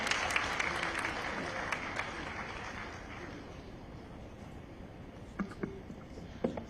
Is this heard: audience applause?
yes